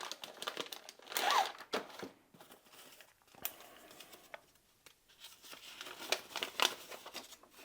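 A plastic Ziploc bag wrapped around a small zippered soft-side case from a tool kit crinkles and rustles in bursts as it is handled and opened, fairly close and with no talking.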